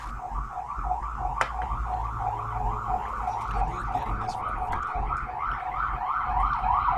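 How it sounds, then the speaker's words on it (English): A wailing emergency vehicle siren cycles up and down repeatedly, moderately distant, heard from inside an apartment over low rumbling background noise. "Sorry for the sirens."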